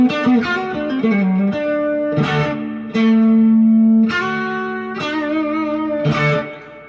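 Electric blues guitar in D with heavy distortion playing a signature lick of bent, sustained notes and sharp plucked attacks, loud and close, with no voices.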